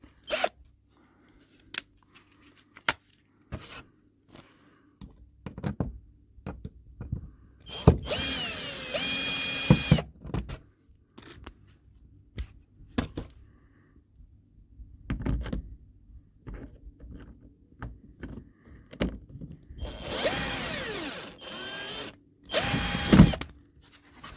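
Screws being removed from the inner wheel liner of a Chery Tiggo 7, with short bursts of a power driver whirring among scattered clicks and knocks of plastic and tools, close and intermittent with no talk.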